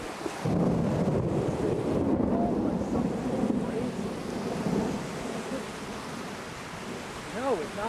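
A thunderstorm during a microburst in Panama City, Florida roars with heavy rain and strong wind buffeting the microphone, a loud, steady wash of noise that stays dense throughout, with a voice faintly audible.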